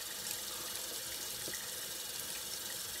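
A tap runs steadily into a sink while water is added for lathering a shaving soap puck, a continuous even splashing gush, fairly close and unbroken, with no talking.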